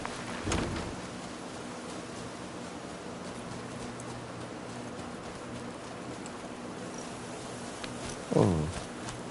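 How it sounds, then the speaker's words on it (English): Steady rain hisses through a stormy scene in the video game Horizon Zero Dawn, with a low rumble of thunder and a brief sharp burst near the end, no talking. "It's getting thick. I'm waiting for rain."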